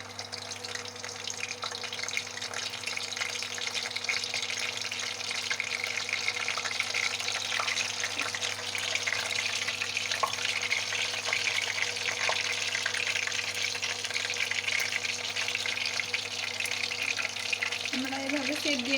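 Cabbage pakoras hiss and sizzle steadily in hot oil, a continuous bright frying noise that holds at an even level throughout, close and fairly loud.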